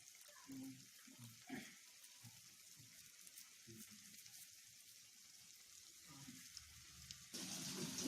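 Plantain pieces fry in hot oil with a faint, steady sizzling hiss and a few soft crackles, quiet and close throughout.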